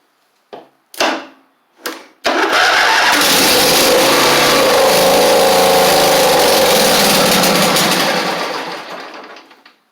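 A Husqvarna Z4822 zero-turn mower engine with a stuck choke cranks in a few short bursts, then catches and runs loudly and steadily without choke for several seconds before dying away.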